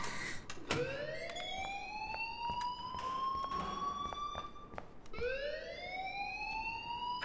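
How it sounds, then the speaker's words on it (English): An alarm in the video game Life is Strange rings continuously with a rising, wailing electronic tone that repeats, loud and steady with no talk over it. "please turn off that alarm"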